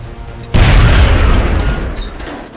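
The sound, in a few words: grenade explosion in video game XCOM Enemy Unknown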